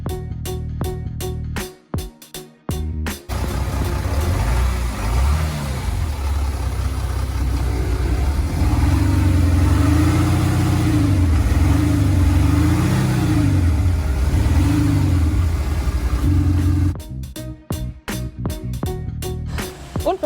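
A VW Amarok Red Rok with a 350 PS engine idles with a deep, steady rumble, then revs several times in rising and falling swells before settling back to idle. Close and loud, with no talking.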